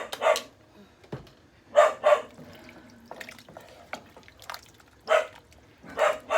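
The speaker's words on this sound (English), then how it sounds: "I apologize for the constant barking" A dog barks in short, repeated bursts, paired yaps spaced a second or two apart, fairly close.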